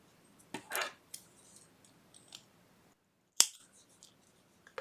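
Scissors snip through crochet yarn after a finished treble stitch, a few quiet, close cuts with soft handling noises between them in an otherwise hushed room.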